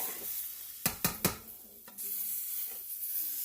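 A roux cooking in a very hot skillet for gumbo, with a steady sizzling hiss broken by three sharp scraping stirs close together, then further quieter stirring.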